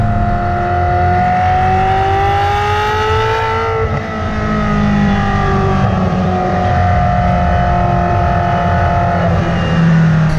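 A Ferrari F355 Spider's engine revs up, a loud, close, high-pitched wail that climbs in pitch, drops briefly with a gear change, then rises again.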